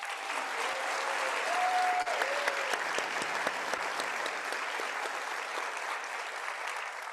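Sustained applause from a large audience at a college convocation award presentation, with steady dense clapping that holds level throughout and some brief voices within the crowd.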